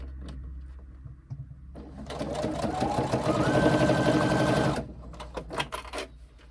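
A sewing machine runs a seam on a fabric tote bag, starting after a quiet pause, humming steadily for a few seconds with a rising whir, then stopping into scattered clicks and handling sounds.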